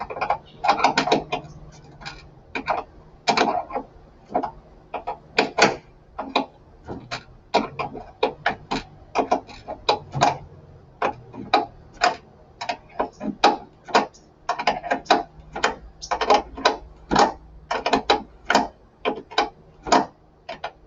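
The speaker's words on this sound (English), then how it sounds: "And I'm going to thread this guy back in." Ratcheting clicks from a wrench threading a bolt back into a car hood lift support mount, a rapid, steady series of sharp close ticks in short bursts, with no talking.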